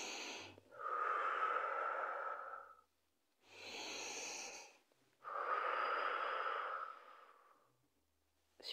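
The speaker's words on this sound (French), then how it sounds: "Vous expirez, vous twistez." Slow, deliberate exhalations during a twisting back-strengthening exercise, three long breathy blows separated by quieter inhales, close and soft with no talk.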